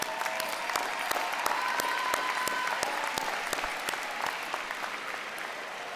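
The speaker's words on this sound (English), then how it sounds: "Give them a round of applause." Graduation-ceremony audience at a college commencement applauding first-generation graduates, a steady wash of many hands clapping that stays dense and fairly loud throughout, with a faint tone briefly audible beneath it.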